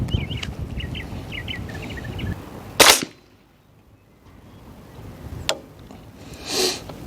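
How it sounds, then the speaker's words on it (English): A suppressed 300 Blackout rifle fires Freedom Munitions 220 grain Hush subsonic rounds, giving one sharp, loud report in the open air with a short tail, while birds chirp in the background. "It's 300 Blackout, and I'm shooting Freedom Munitions 220 grain Hush subsonic."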